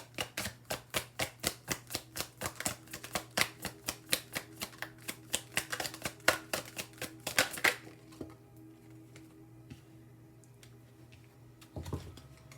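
A deck of tarot cards is riffled repeatedly in quick, crisp bursts for several seconds, then stops, leaving a quiet room with a brief soft thump near the end.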